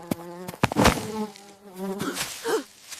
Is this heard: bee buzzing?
yes